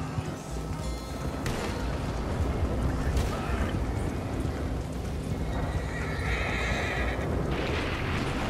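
Inside the Red Dead Redemption 2 video game, a horse whinnies among steady clip-clopping hooves and dense outdoor game ambience, with brief voices in the mix.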